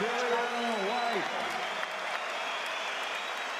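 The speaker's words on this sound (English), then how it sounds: "a round of applause" Crowd applause fills the hall after a heavyweight boxing bout between Joseph Parker and Dillian Whyte, a broad steady roar of clapping that continues throughout, with a brief announcer's voice at the start.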